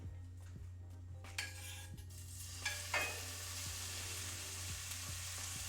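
Food sizzles in a hot skillet while a chicken Alfredo dinner is cooked, a steady hiss swelling partway through, with occasional utensil clinks and stirring scrapes close by and no talking.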